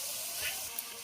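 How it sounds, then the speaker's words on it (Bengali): Water is poured into a pan of potatoes for a village-style fish curry with onion and potato, a brief splashing rush lasting about a second. "আলুটা সেদ্ধ হওয়ার জন্য আমি একটু পানি দিয়ে দিচ্ছি"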